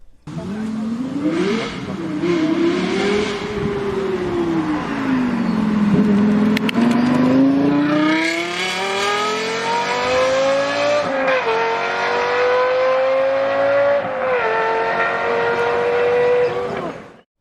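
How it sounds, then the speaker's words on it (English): A Lexus LFA's high-pitched V10 engine screams as it revs and pulls through the gears, pitch climbing and dropping repeatedly, loud and close with a racing edge. "This LFA sounds almost as good."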